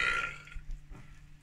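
One person lets out a short, throaty burp, close and fairly loud at first, then trailing off into faint breathy noise.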